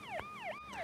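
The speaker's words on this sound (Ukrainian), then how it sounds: "Це швидка допомога." An ambulance siren wails in rapid repeating up-and-down sweeps, a fast yelp pattern. It is continuous and moderately distant with no voices.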